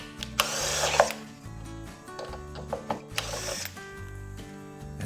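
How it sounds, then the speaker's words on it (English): A screw is driven out of a porch door during installation, with short bursts of a power driver whirring close up between clicks and mechanical rattles. "the next step is removing one of the screws"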